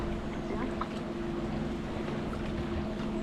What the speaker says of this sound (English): Look at the wash of waves.